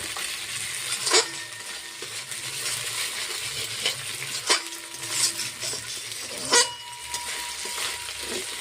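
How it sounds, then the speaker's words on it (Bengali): Spice paste for duck curry, made with green chillies, frying in oil in a pan, giving a steady close sizzle with occasional stirring scrapes and clinks and no talk. "মশলাটা ভাজা ভাজা হবে, তেল ছেড়ে আসলে মাংসটা আমরা দেব।"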